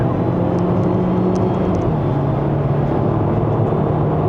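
A GAC GS3 Emzoom with a 1.5L turbo engine drones loudly and continuously from inside the cabin on a Malaysian test drive, a dense steady engine and road rumble with a faint high whine.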